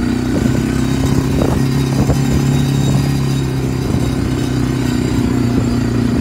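A four-wheeler ATV engine drones loud and close while riding over bumpy ground, with rattles and clatter from the jolts throughout.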